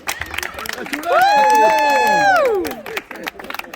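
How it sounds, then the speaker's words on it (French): A crowd at a community gathering in Senegal cheers and claps, with a loud sustained burst of high shouts and whoops that swells for about a second and a half and then fades, rising over a lively background. "Applaudissez."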